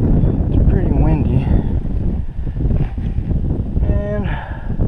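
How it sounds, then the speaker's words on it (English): Strong wind blows down the valley of Indian Creek Gorge in the Ponca Wilderness on the Buffalo National River, on a cold, moonlit night. It is a loud, continuous rumbling gust that buffets the microphone, with faint voice-like tones now and then. "It's pretty windy."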